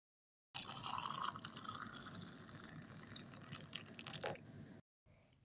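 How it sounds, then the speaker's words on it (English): Boiling water streams steadily into a cup of honey lemon tea for several seconds, a continuous close pouring splash that stops abruptly near the end. "Then we will pour boiling water on top."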